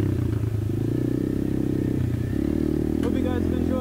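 A 125cc Apollo RFZ pit bike engine drones steadily while riding single-track enduro trails, a constant close buzz with a slight shift in pitch partway through.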